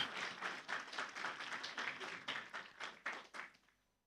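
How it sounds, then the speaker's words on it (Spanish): A church congregation at a Sunday service applauds a choir group, a brief burst of many hands clapping in uneven, close rhythm that thins out and fades away after about three and a half seconds. "Un fuerte aplauso más para el grupo Canto Esperanza."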